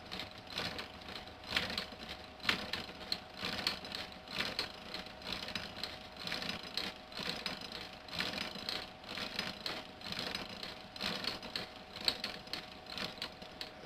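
Ajax boring machine bores a hole into a 4x7 beam of Eastern White Pine, giving a continuous faint grinding, rasping churn of bit on wood with irregular crunchy bursts and no voice.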